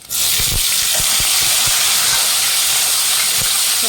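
Tomatoes hit a hot pan of cooked capsicum for hotel-style bisi bele bath, bursting into a loud, steady steam hiss that holds throughout with a few soft knocks underneath.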